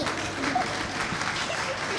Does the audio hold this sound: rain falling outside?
no